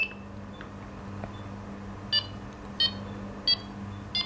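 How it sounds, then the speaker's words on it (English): A fishing bite alarm gives four short, sharp electronic beeps about two-thirds of a second apart as line is pulled off a bait runner reel, each tone distinct and close over a quiet low hum. "if I now pull that off the bait runner, I get lots of beeps"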